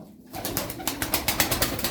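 Turkish tumbler pigeons in a loft in Darıca make soft, steady fluttering and rustling with a faint low coo beneath, a close, continuous texture with regular small pulses.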